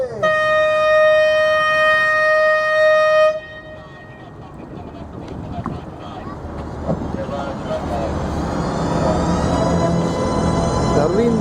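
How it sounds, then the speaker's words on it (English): Tour bus horn on a Delaware River bus tour gives a long, loud, steady blast of about three seconds, then cuts off, leaving engine rumble and road noise beneath chatter and voices. "I have to honk my horn up here."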